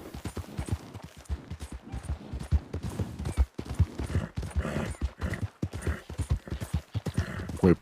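A ridden horse's hooves clip-clop in an irregular, busy rhythm of close, sharp thuds, with some louder strikes scattered through the passage.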